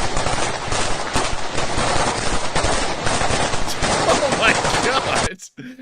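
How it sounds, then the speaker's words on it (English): Soldiers near Bakhmut fire rifles almost continuously, a dense stream of overlapping cracks and bursts of automatic fire that carries for several seconds before cutting off abruptly. "They're literally just unloading magazine after magazine at nothing."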